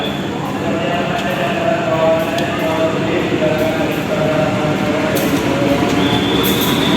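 Steady rumble and clatter inside the Bengawan economy passenger train in Indonesia, with rhythmic wheel noise, a continuous hum and occasional high squeals, loud and close throughout; a voice is heard faintly at times.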